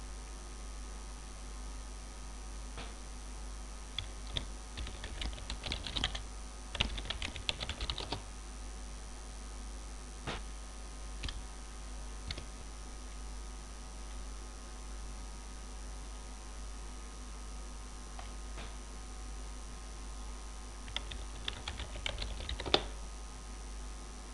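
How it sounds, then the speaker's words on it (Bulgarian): A password is typed on a computer keyboard while Windows is installed onto a virtual hard disk: scattered clusters of quiet keystrokes over a steady electrical hum in a still room, with no voices. "Пишем си паролата."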